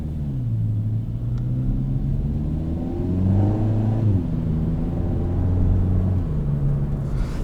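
A 2021 Kia Forte GT with a seven-speed dual-clutch automatic pulls hard, its engine droning up through the revs and dropping abruptly at each quick gear change, heard from inside the car, steady and fairly loud.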